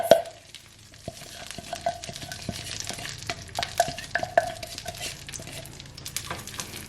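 Chopped pumpkin seeds cook over low heat in melted butter, a quiet sizzle with scattered clicks and light scraping of a utensil against the pan, close by, with no voices.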